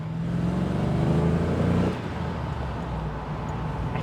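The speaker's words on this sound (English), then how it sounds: "so I'll just blip the throttle for you" A Bentley Arnage with a 3.9 litre V8 and low-slung exhausts gives a throttle blip while leaving a small French village, a loud rising engine roar that holds for about two seconds then drops back to a steady idle rumble.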